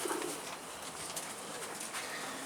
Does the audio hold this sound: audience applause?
no